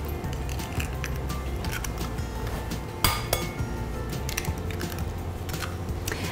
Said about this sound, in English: So just crack two large eggs in.